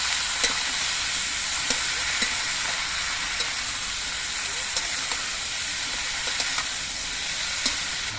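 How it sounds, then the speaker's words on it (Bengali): Vegetables stirred into hot oil in a pan for a Bengali mourala fish chorchori, giving a steady close sizzling hiss broken by light scraping clicks of the spoon at irregular intervals, with no talking. "এবার নেড়ে ভেতরে তেলের সঙ্গে মিশিয়ে দিতে হবে"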